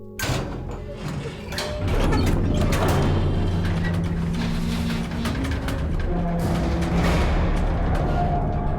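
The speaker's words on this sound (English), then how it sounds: "this is a sound of a door to the bunker, and it doesn't sound like a small one" A large, heavy metal bunker door in the video game DayZ grinds and rumbles open with clanks and a deep thud, followed by a sustained low mechanical drone.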